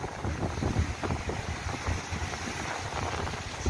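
Strong wind buffets the microphone on the shore of Lake Baikal in October, with big waves crashing in a constant rough roar and no voices.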